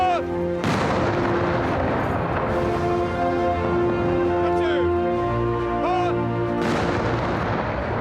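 A royal gun salute of artillery fire in Hyde Park, London, with loud, booming cannon shots echoing across the open park. Commands are shouted between the blasts.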